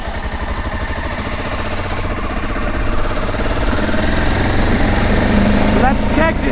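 A motorcycle engine drones steadily while riding at around 25 miles an hour, a loud continuous rumble with wind noise throughout and a slight rise in level partway through.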